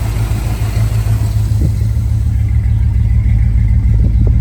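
A 1974 Dodge Dart rumbles loud and close through its exhaust, a steady low engine note with a couple of brief throttle blips, no talking over it.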